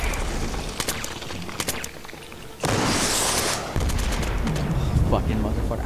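Enemy rockets and gunfire in the sci-fi shooter Killzone 3: sharp, scattered shots are followed by a loud, roaring rocket blast lasting about a second, then more firing.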